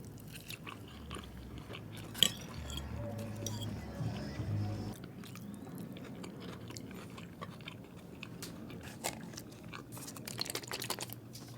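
Close, crunchy chewing of crispy General Tso's chicken, with irregular bites and mouth noises that grow louder and busier after the first few seconds, and no talk over them.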